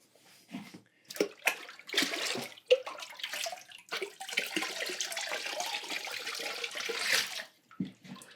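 Clear glaze poured over a ceramic bowl, a close splashing, trickling liquid stream that starts and stops in bursts, then runs steadily for several seconds before tapering off, with no talk.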